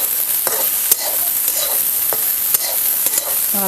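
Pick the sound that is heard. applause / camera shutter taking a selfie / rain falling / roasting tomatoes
roasting tomatoes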